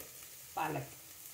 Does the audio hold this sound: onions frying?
yes